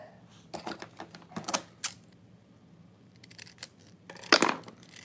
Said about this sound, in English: then you're just going to cut your lace